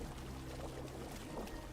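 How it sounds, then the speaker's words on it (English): A waterfall in the video game Tainted Grail gives a steady, soft rushing wash of falling water, faint and unbroken throughout. "There's a waterfall somewhere around here, I think."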